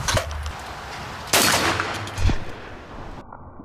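Gunshots fired at a cheap Windows tablet: a few sharp, loud reports in quick succession, the biggest about a third of the way in, each trailing off into a short decay.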